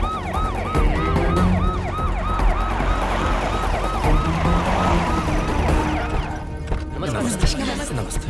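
An ambulance siren wails in a Hindi action film scene, its rising and falling cycles repeating loudly and steadily for about six seconds before fading, with voices and other noise underneath.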